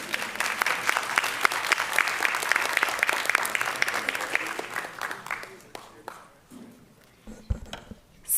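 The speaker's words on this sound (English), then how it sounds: "We can clap for this, right?" A school board meeting audience claps steadily and fairly loudly for about five seconds, then the applause thins to a few scattered claps and fades out.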